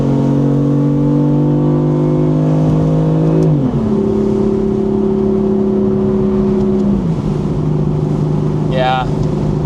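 A 2018 BMW M4 engine pulls hard after an upshift into second gear, a loud close drone that steps down in pitch at the shifts, with a brief chirp near the end.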